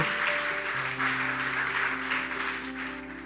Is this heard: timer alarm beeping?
no